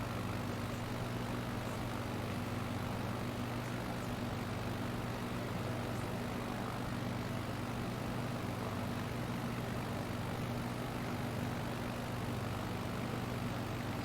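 Airplane engine in the Flight Simulator video game over Hawaii, a steady continuous propeller drone with a constant low hum, unchanging in pitch and loudness for the whole stretch, with no voices.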